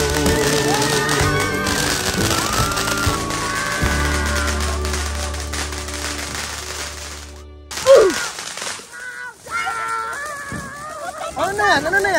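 Loud festive noise at a New Year celebration with bursts of crackling and popping from fireworks amid music and shouting voices, with a sharp bang near the end.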